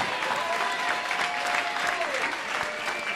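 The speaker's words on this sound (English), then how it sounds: "a nice round of applause" Audience applause at a Warrior Nation XFA mixed martial arts event after a three-round bout, a dense steady wash of clapping and crowd noise filling the whole stretch at even loudness.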